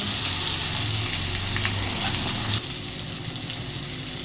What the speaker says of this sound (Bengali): এরপর দিয়ে দেব টমেটো দিয়ে আবারও ভালো করে ভেজে নেব।